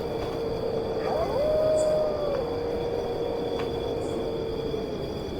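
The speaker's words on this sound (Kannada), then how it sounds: "ಈ ಕಡೆ ಎಲ್ಲ ನಾಯಿ ಬುಗ್ಳ್ತಾರ ಕೇಳಿಸ್ತಾ ಇದ್ವು, ಅದು ಸೌಂಡು." A long, drawn-out dog howl rises and holds at moderate distance near a cemetery at night, with a steady background hum and faint distant sounds.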